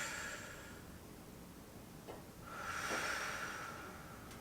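A single slow deep breath during a mobility stretching session, a soft airy inhale swelling toward the end, faint and close with no talking.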